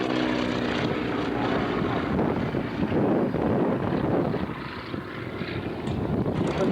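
A vintage aircraft flying aerobatics at the 1996 Shoreham airshow, heard from on board: a steady propeller engine drone with heavy wind rush on the microphone, loud and continuous throughout.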